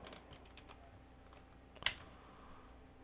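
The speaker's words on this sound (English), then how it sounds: "And then we'll type in localhost." Light typing on a computer keyboard with soft key taps and one sharper click partway through, quiet against a faint background hum.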